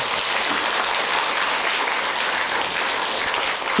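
Loud, dense applause fills the room after a panel discussion at a Buddhist ritual culture academic conference, a continuous even roar of many hands with no talk.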